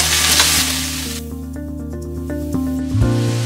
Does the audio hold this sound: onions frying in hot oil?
yes